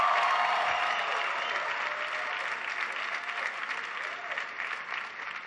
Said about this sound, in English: can everybody please give Faith a big round of applause for the great introduction.